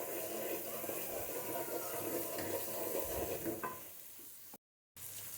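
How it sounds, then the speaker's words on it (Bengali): Spice-washing water poured into a curry pot of chicken with bottle gourd and mung dal, a steady sizzling and bubbling wash that fades toward the end and cuts out briefly. "মশলা ধোয়ার পানিটা দিয়ে দিলাম।"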